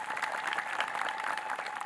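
A church congregation breaks into steady, continuous applause, a soft, somewhat distant wash of many hands clapping without a break.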